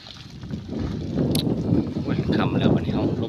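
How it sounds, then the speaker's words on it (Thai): Gusty wind blows outdoors beside a canal during a day of gathering snails and trapping small fish, a steady low rumble of rough buffeting noise that swells slightly louder over the clip, with people talking nearby. "ลมวีวีแล้วเด้อ"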